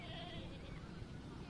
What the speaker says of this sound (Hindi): ये खस्सी है। बकरा खूबसूरत है